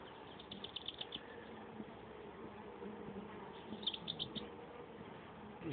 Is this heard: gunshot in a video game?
no